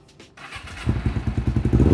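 Kawasaki Ninja 250 carbureted sport-touring motorcycle from the 2000s firing up, a quick starter churn followed by a close, loud, pulsing idle that revs slightly.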